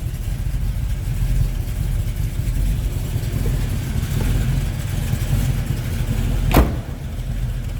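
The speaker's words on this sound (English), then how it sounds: "So a rumble coming out of that 427 underneath the hood" A 1973 Chevrolet Camaro with a 427 V8 rumbles at idle, a steady low, loud engine drone heard up close, with a brief sharp sweep late on and no talking.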